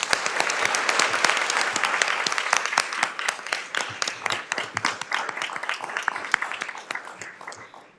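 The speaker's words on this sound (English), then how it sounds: "I'd just like to give them a round of applause." An audience applauds at a Bucks County commissioners' meeting, a burst of many hands clapping that swells at first and then thins and fades out over several seconds.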